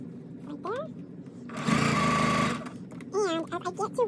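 A sewing machine stitches a seam on a lined drawstring bag, running in one steady buzzing burst of about a second, with someone talking before and after it.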